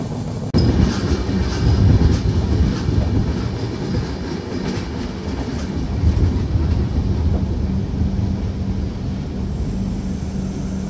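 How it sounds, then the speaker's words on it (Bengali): The Madhumati Express rolls in toward Mawa station with a heavy, steady rumble and clatter of rail cars close by, continuous and loud. "ট্রেনটি এসে দাঁড়ালো তার প্রথম যাত্রাবিরতি স্টেশন"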